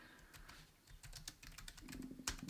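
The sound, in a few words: typing on a computer keyboard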